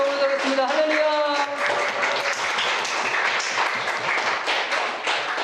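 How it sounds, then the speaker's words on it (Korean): A church congregation claps in thanks during a Sunday worship service. The applause is sustained and fairly loud throughout, and a voice speaks over the first moments. "기도 박수로 감사의 영광을 올려드리겠습니다."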